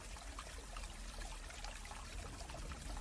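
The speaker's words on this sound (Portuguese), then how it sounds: "Preste apenas atenção no barulho da água e na minha voz" Water flows in a soft, continuous rushing stream, faint and even throughout with no voices over it.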